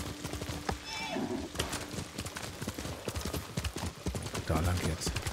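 Horse hooves clip-clopping at a steady riding pace in the video game Ghost of Tsushima, a close rhythmic run of hoofbeats with a brief whinny and a person talking over it.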